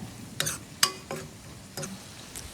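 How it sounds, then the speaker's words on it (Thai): Fish balls stir-fried with garcinia and fish sauce in a hot pan, four or five distinct scraping stirs of a utensil over a soft steady sizzle, close and without speech. "ใส่ส้มแขก น้ำปลา ผัดผัดทุกอย่างให้เข้ากันค่ะ"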